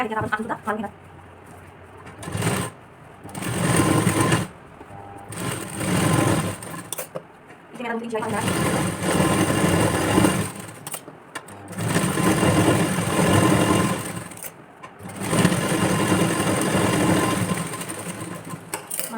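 A sewing machine stitches a padded blouse in bursts of steady rapid whirring, pausing briefly between runs, with birds cooing faintly in the background.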